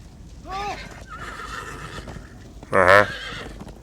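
Horses in the video game Minecraft Story Mode, two sharp whinnies, one soft and one loud and close, over a light steady background with faint hoof movement.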